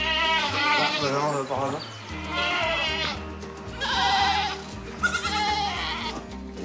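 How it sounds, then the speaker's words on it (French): A loose goat bleats several times in long wavering calls, loud and close, while people talk over it during a chase on a farm. "La chèvre nous fait tourner chèvre."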